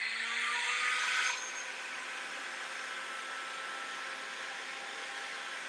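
A heat gun blowing steadily while warming decoupage on a pumpkin, a continuous close whooshing roar that is slightly louder and brighter for the first second, then settles into an even hum with no speech.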